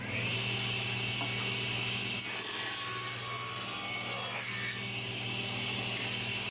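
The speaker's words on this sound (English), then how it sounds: "I'll start cutting them into shorter pieces." A saw cuts wood into shorter pieces with a continuous, raspy grinding, loud and close, holding steady throughout with no talk.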